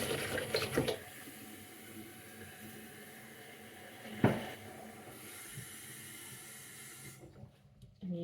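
Water runs steadily into a jar while making water kefir, filling it to the top with a continuous soft hiss and rush, a louder splash midway, then stopping near the end.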